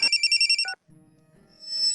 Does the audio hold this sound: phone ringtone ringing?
yes